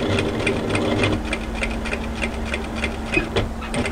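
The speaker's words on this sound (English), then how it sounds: "Sew a couple of holding stitches, back tack, right, and sew across to the other side." A domestic sewing machine stitches across a hoodie seam with rapid, even needle ticks over a steady motor hum, running close and continuous, with a short back-tack.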